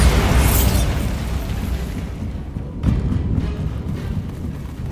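A Bombarda spell blast in Hogwarts Legacy bursts loudly at once and then trails off into a long, rumbling decay, with a smaller thump partway through.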